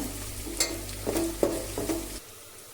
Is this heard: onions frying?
yes